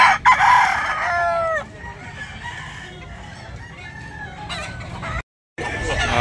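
A two-year-old yellow-legged gamecock crows in a sweater, followed by more crowing and clucking from nearby fowl over steady farmyard background noise.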